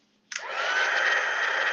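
A small embossing heat tool switches on and settles into a steady, airy blowing whine, close and continuous.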